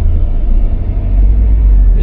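Heavy truck traffic crawling in a jam near the Merak toll gate in drizzly weather, heard as a steady, loud low rumble of engines with no talk.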